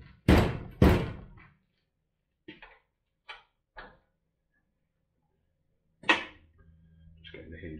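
The driver's door of a 1971 Range Rover is worked on its hinges, giving two heavy metallic thunks, then several lighter clanks and a final knock, close and separated by silence.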